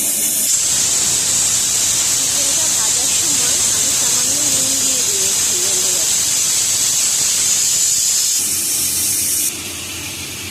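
A blended spice paste poured over fried chicken in a hot pan, with a loud, steady hissing sizzle running almost throughout before dropping off near the end; faint squeaks and background sounds sit beneath it.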